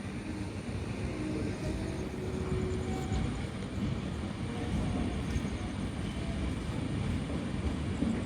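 A superfast express train rumbles steadily past on the adjacent track at Tenali railway station, overtaking a halted train, a continuous heavy roar of wheels and cars close by with no break or talk throughout.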